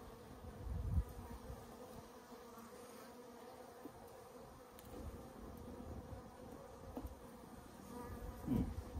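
Steady low buzzing of many honeybees close by at a Warré hive, a continuous insect hum with occasional louder passes near the microphone.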